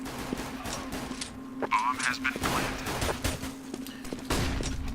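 Rapid gunfire in the shooter game Counter-Strike: Global Offensive during a match on the Cobblestone map, a string of sharp bursts and shots with a steady hum beneath, under a commentator's talk.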